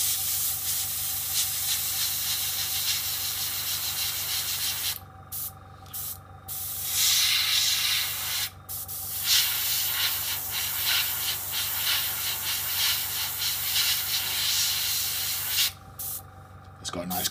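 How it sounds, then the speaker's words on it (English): An airbrush set to about 22 to 25 psi sprays Vallejo chipping medium onto a model in a steady close hiss with a few brief pauses. "Set my airbrush to about 22 to 25 psi."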